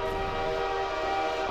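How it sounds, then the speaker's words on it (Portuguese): A train horn sounds with a steady, sustained tone over a low rumble of rail cars rolling past in a dark Garry's Mod horror map, loud and continuous throughout. "O trem passou aqui."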